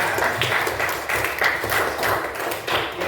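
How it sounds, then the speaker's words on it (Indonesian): Classroom applause for a student named Keneja, a few seconds of uneven, close clapping with tapping hand claps rising and falling in bursts, no talking over it. "Tepuk tangan untuk Keneja"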